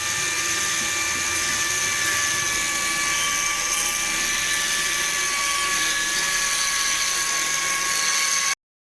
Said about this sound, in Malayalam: ഇത് പൈപ്പിൻ്റെ റൗണ്ടൊക്കെ ഫിനിഷ് ആക്കുന്നത് ഗ്രൈൻഡർ ഉപയോഗിച്ചിട്ട്.